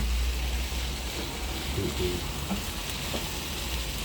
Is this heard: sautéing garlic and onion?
yes